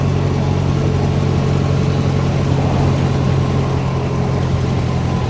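A 1926 vintage car's engine drones steadily as it climbs a hill, a loud, constant low rumble with an even hum and no pauses.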